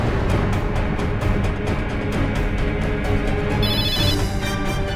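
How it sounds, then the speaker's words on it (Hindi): A telephone rings over a dense, loud background of music or drama sound, with a ringtone pattern entering near the end of the short stretch. "ले फोन, तेरे सती सावित्री का होगा। उठा ना।"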